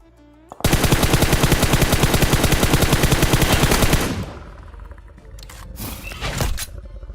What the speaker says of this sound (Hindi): अब यहाँ राइट से फायर हो रहा था